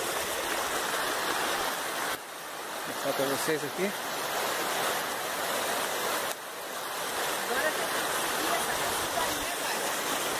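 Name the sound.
small cold mountain stream flowing down a cascade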